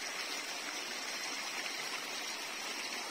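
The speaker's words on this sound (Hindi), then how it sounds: "ये देखिए पानी की खूबसूरत आवाज, ये जा रहा है जी पानी" A mountain stream at Arokas village near Murree flows with a steady broadband rush of water, continuous and close, with no talk over it.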